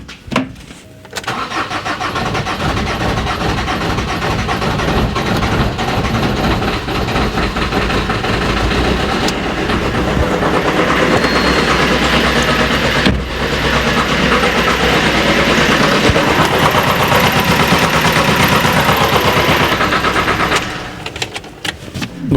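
An Alfa MiTo with a broken exhaust cranks and starts with a jump booster connected, settling into a loud, rough, sustained engine roar up close that drops away near the end.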